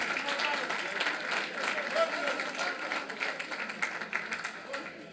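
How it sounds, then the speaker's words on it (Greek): A group at a taverna stop on a motorcycle outing clapping for Vasilis, a fairly quiet, scattered patter of hands heard from a short distance, with some talk mixed in. "Ένα χειροκρότημα στο Βασίλη."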